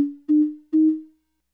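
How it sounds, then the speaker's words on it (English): A dry Eurorack synthesizer tone with no reverb: three short, loud, pure low notes in steady succession, each cutting off cleanly with no tail, nothing else audible. "First, let's hear the dry signal with no reverb."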